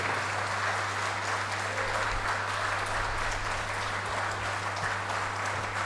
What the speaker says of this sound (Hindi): मैं रिक्वेस्ट करता हूँ आप सब लोग है ना, जोर से 2-3 बार तालियां दीजिए GM साहब को और DRM साहब को.